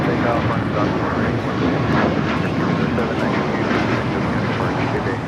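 An airplane takes off from a runway at LAX, its engines producing a loud, sustained roar throughout, with voices faintly mixed in.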